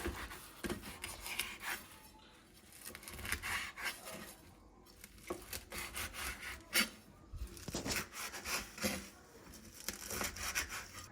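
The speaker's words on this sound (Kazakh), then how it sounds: "Және осының бәрін үстіп ұсақтап турап аламыз" Kataifi pastry being chopped finely with a knife on a board, heard as a steady run of dry scraping and rasping cuts with irregular rhythm, close and moderately loud, with no talking.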